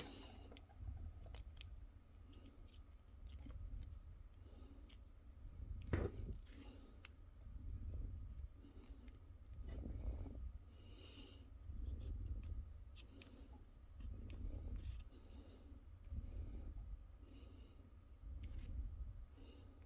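Scissors trim a zipper for a glitter tumbler, snipping in repeated close, crisp cuts with small clicks and rustles between them, fairly quiet and irregular.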